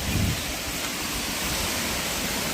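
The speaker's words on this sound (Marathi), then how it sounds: "हा पाण्याचा तो खळखळणारा आवाज" Steady rushing water fills the air, a constant broadband wash of a forest stream flowing nearby, with no voices.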